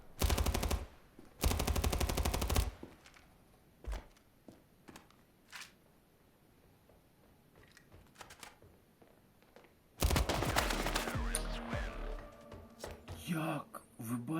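Loud Desert Eagle pistol fire in the shooter game Standoff 2, arriving as dense bursts of shots at the start and again near the end, with quieter game sounds and talk in between.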